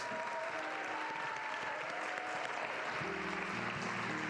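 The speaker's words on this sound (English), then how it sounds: "Let's give them him a great big round of applause." Audience applause for Bishop Marvin L. Winans as he is welcomed to the stage at a Martin Luther King Jr. regional celebration, a steady dense wash of clapping from a large crowd throughout.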